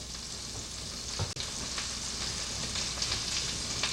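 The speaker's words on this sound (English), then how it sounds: "now we're going to add our chicken and saute" Chicken sautés steadily in margarine in a hot pan, a close, continuous crackle with a few soft clicks and pops.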